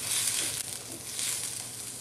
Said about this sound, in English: Put first the onion to sweat.